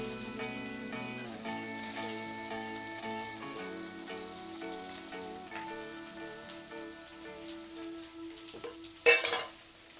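About ten chopped small onions sizzle and fry in a nonstick pan with asafoetida while making gongura dal, a continuous crackling hiss with occasional stirring, and a brief louder clatter near the end, all under steady background music.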